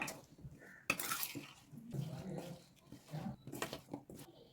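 Cauliflower florets being tossed and mixed with masala in a bowl for crispy cauliflower 65, soft irregular scraping and knocks of hand or spoon against the bowl, close and quiet, with brief faint background noises.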